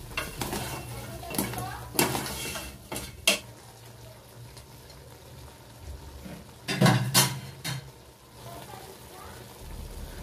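A cooking pot holding chopped sigang chili peppers is stirred with a metal utensil, giving intermittent clanks and scrapes against the pot, with a louder cluster of knocks near the end and a low background hum.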